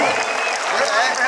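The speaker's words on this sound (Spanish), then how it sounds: "¡Fuerte el aplauso que se oiga!" Crowd applause at a bull riding event, a steady wash of clapping from a large audience throughout, with an announcer's voice over it.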